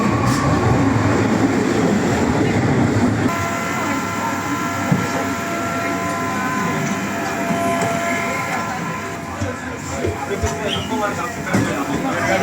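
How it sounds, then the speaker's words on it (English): A Lisbon subway train rumbles and clatters steadily along the track with faint whining tones, while people talk nearby over the ride. "now we're going to get on the train"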